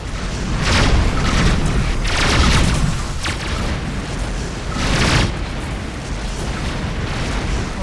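Incoming missiles explode in a space combat game, giving several loud booming bursts over a constant rumbling roar, with no voices.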